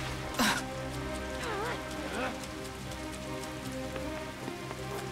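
Rain hisses steadily in My Hero Ultra Rumble, a constant soft wash under a voice that talks over it and a few brief game effects.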